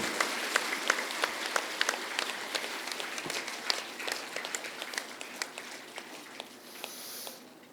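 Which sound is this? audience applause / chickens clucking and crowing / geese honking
audience applause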